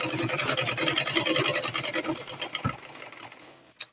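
A sewing machine runs a steady, fast stitching burst while sewing an off-shoulder corset, its close mechanical whir loud and continuous for most of the clip before slowing and stopping near the end.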